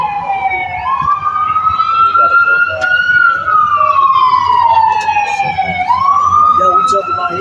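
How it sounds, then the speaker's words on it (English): An ambulance siren wails loudly as it drives past, its tone sweeping slowly up and down in long cycles over low road rumble. "we got the ambulance driving by"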